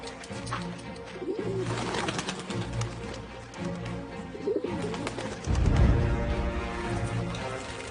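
Messenger pigeons cooing continuously in a game setting, several birds with overlapping throaty coos near and loud, with a fluttering burst of wings toward the end.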